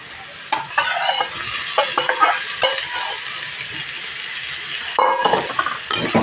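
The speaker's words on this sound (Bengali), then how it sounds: "এবার এখানে আমি চিংড়ি মাছগুলো দিয়ে দেবো।" Shrimp tossed and fried with grated radish in a pan for a Bengali radish dish, utensil scraping and clinking in irregular bursts over a steady sizzle, close and fairly loud, no voices.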